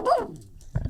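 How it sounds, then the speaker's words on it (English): A dog barks once in a short, sharp yelp, then gives a lower, softer bark-like grunt a moment later. "Dog?"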